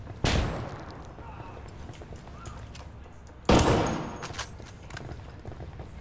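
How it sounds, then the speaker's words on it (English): Two flashbang grenades go off in the Ghost Recon Wildlands video game, sharp loud bangs a few seconds apart, each followed by a decaying ringing tail and faint scattered game sounds. "Throwing a flashbang."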